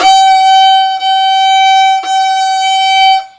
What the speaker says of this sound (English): this is a low G, which is G natural